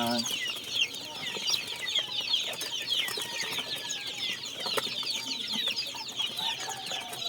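Backyard chicks feed among chickens, with soft clucks and busy high peeping chatter continuing steadily at moderate distance, with faint background voices.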